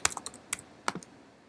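Quick bursts of typing on a computer keyboard, a handful of close, crisp key clicks in an uneven rhythm followed by a short pause, with no talking.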